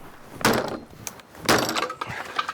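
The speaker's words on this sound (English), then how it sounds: "he's kicking fences in and smashing sheds up" A garden shed being smashed up: two loud crashing, splintering impacts about a second apart, followed by smaller cracks and rattles, close by.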